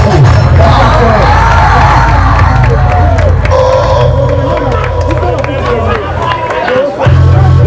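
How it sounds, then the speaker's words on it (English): A crowd at a basketball final claps and cheers loudly for an award winner, a dense roar of shouting, whoops and applause with voices talking over it and calling out close by. "A big clap for Mr."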